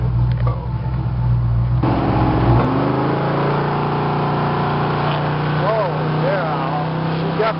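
A 1970 Ford F150 Custom pickup engine roaring under acceleration, loud and close at first, then settling into a steadier drone as someone talks over it.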